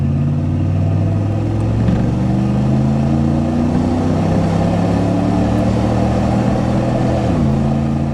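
A 1987 Chevrolet Camaro IROC-Z with the TPI 350 V8 accelerates on a test drive, its loud steady engine drone rising in pitch through the gears with clear shift drops, heard from inside the car with no talking.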